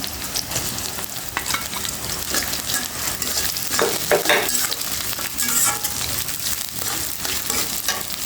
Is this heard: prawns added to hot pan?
yes